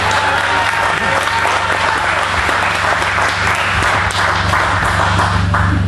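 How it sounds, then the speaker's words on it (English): Audience applause fills a festival tent, steady and loud for the whole stretch, with a low constant hum and some crowd noise mixed in. "we'd just like to show your applause."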